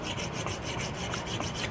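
A metal file is drawn repeatedly across the rough face of a cast nose cap for an Investarms Gemmer Hawken rifle build, giving a close, steady run of rasping strokes in an even rhythm with no voices.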